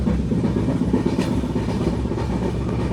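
Steady rumble and rhythmic clatter of the Tamralipta Express running at speed, heard from inside a coach, continuous and fairly loud with no voices.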